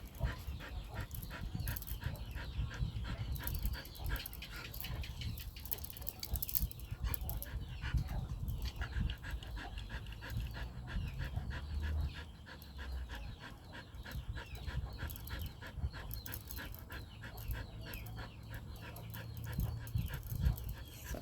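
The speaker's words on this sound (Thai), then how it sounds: "เสียงหายใจหมา" A dog pants steadily and rapidly from close by, a continuous rhythmic huffing with no voices.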